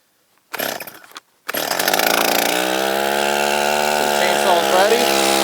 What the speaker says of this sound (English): The chainsaw burped, so it's ready to be started.